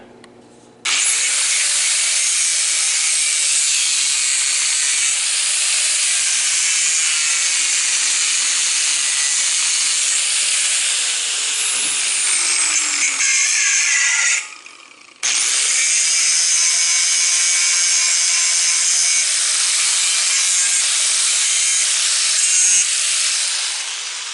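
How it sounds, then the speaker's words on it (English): Angle grinder cutting metal for loader bucket forks, a loud, steady high-pitched grinding screech that runs for about fourteen seconds, stops briefly, then resumes for roughly nine more seconds. "I'm so used to using my grinder that I'm just going to use that. It gives me a pretty nice straight cut."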